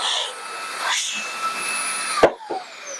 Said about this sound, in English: I'm going to show the Makita XGT 40 volt cordless blower